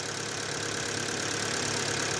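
A Ford Focus engine, just revived after flood damage, runs at a steady idle with a continuous even drone and faint knocking, close and unbroken, with no talk over it.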